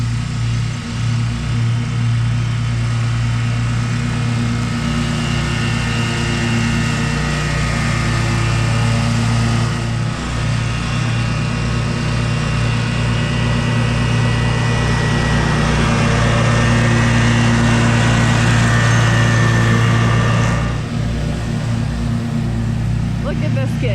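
A riding lawn mower engine runs continuously in a field, a loud steady drone close by for the whole stretch, with people talking over it.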